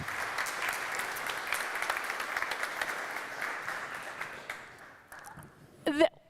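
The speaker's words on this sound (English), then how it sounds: "A round of applause for our new board" A conference crowd applauds warmly for several seconds for a newly announced board of directors, the clapping gradually thinning and fading out near the end.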